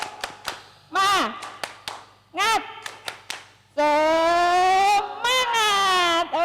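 A group clapping a rhythmic cheer at the close of an online class meeting, with sharp isolated claps in a patterned beat alongside loud sung or shouted vocal phrases that dominate much of the clip.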